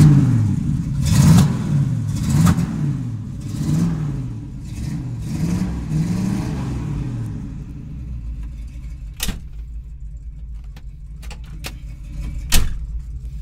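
A 1960s Pontiac GTO with a 6.4-litre V8 and Edelbrock parts revs repeatedly in rhythmic surges for several seconds, then settles into a low idle rumble. A few sharp clicks and knocks sound close by.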